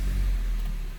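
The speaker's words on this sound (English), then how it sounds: "With the vehicle on and running" A 2016 Honda Civic EX engine idling at operating temperature, giving a steady, close, low hum with a smooth, even drone and no talking.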